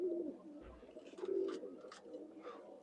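A pigeon coos softly in low, rolling phrases while landing, faint and somewhat distant against quiet outdoor background with a few light higher chirps.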